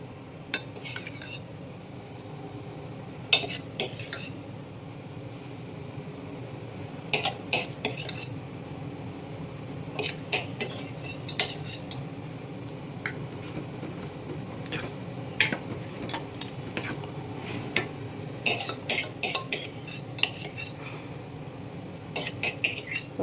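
Cooked lentils scraped and mixed into a pot with a metal utensil, bursts of clinking and scraping coming in irregular clusters over a quiet kitchen background.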